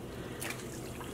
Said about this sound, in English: sort of draining some of this water